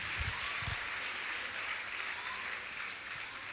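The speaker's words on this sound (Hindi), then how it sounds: "एक बार जोरदार गुना वाले अपने लिए ताली बजाएं।" Sustained applause from the Guna gathering at a Jain religious assembly, a dense, even wash of many hands clapping together, fairly soft and distant, with a couple of low thumps near the start.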